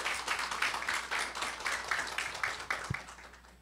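Audience at a KOGAS energy forum applauding to welcome the next presenter, a moderate, steady patter of many hands clapping in a hall.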